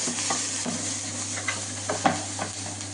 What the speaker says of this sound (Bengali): এর মধ্যে আমি একটু পেঁয়াজ ঢেলে দিলাম, সাথে রোজমেরি,